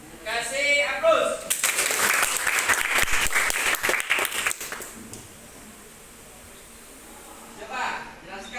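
Applause from a classroom of students at an Islamic school, a dense burst of clapping lasting several seconds that fades out, with voices talking before and after it.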